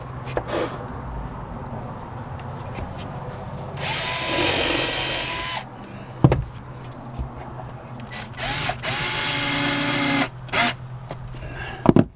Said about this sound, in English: So I'm just going to start drilling and screwing them down.